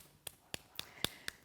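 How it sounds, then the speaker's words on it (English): A hand claps the sole of a bare foot during a Pilates foot and ankle exercise, five sharp, evenly spaced slaps, quiet and close, alone in a still room. "Now clap the sole of your foot"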